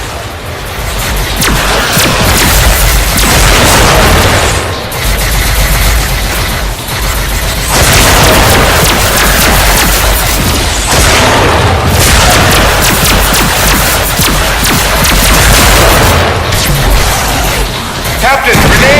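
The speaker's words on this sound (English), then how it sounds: "Captain, grenade!" Grenade blasts and heavy booming combat in a Star Trek game during an ambush, loud dense explosions rolling continuously with brief dips, shouted game voices mixed in.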